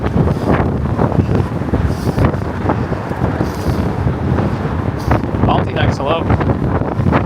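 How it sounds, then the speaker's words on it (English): Gusty wind on a Manhattan street in New York City buffets the microphone in a steady, loud low rumble, with city traffic faintly underneath and brief speech near the end. "Ooh, now that's the wind."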